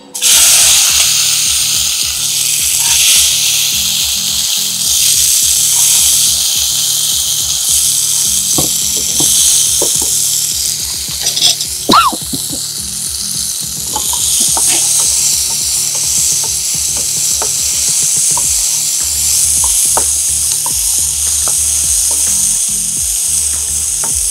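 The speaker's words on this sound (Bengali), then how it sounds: "অল্প একটু ভেজে নিতে হবে।" Falsa berries fry in a pan with dried chilli, giving a steady sizzle broken by repeated scraping clicks of a spatula stirring them, loud and close, with no talking.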